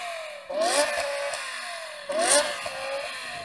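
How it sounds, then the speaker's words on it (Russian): A BMW M5 engine revs twice in quick bursts, pitch climbing and then falling back, close and loud with no voices. "Давайте сравним звучание двигателей авто."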